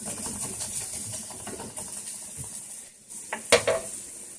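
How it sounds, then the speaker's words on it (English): Onions frying with bacon in a pan, giving a steady sizzling hiss with occasional stirring and clinks of a utensil, plus a brief louder clatter near the end. "I'm adding some onions to that bacon because that's what I always do."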